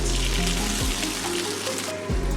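Coriander and spinach paste sizzles in hot frying spice masala for an egg palak dish, a steady close crackling hiss with soft stirring scrapes over background music, no talking.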